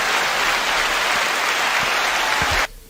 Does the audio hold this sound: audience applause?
yes